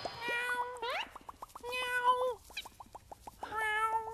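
A cartoon kitten stuck up a tree meows repeatedly in high, drawn-out cries, mixed with plucked musical notes in a bouncy rhythm.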